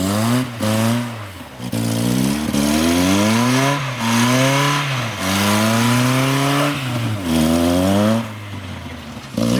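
A Mazda Miata engine revs hard and repeatedly while its wheels spin on a frozen lake, loud and close, with rising and falling surges in quick succession and brief drops between pulls.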